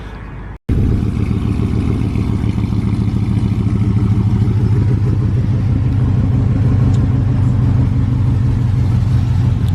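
A cammed Chevrolet Silverado truck's engine idles loud and close after a brief cut, with a choppy, lumpy rhythmic rumble that stays steady throughout.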